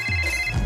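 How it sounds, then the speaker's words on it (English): A telephone rings with a steady electronic trill, brief and fairly close. "Let's call her. It's ringing."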